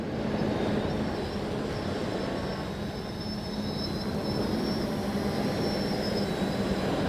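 A 3DR Solo quadcopter drone flies over Lake Huron, giving off a continuous high-pitched whining buzz from its rotors over a steady airy rush, with no talking.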